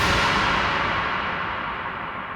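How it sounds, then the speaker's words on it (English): An impact from the Riddim Riot sample pack is drenched in heavy reverb. It comes as one dense, loud noisy wash that slowly fades, with no talking. "This is an impact from Riddim Riot"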